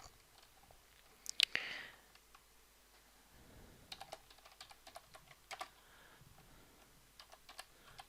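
Typing on a computer keyboard while working in Microsoft Word, with a quick burst of keystrokes followed by scattered, quiet, irregular clicks and taps close to the mic.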